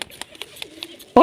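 A pigeon coos in soft, repeated low notes, faint and somewhat distant, before a sudden loud burst cuts in at the very end.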